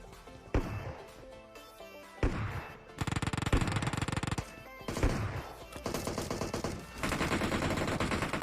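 Heavy automatic gunfire from a PUBG Mobile match, with loud bursts of rapid shots repeating across the clip, separated by short pauses and a few single sharp reports.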